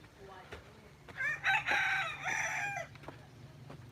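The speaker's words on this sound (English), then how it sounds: "I can hear you crowing." A rooster crows once at a moderate distance near a Mekong River setting at sunrise, a rising, drawn-out call over a faint background hum with a few soft clicks.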